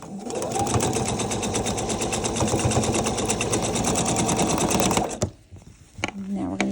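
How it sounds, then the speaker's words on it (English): A sewing machine runs steadily as fabric pieces are stitched together, a fast, even mechanical chatter held close for about five seconds before it stops, leaving quiet handling noises. "we're going to sew these together"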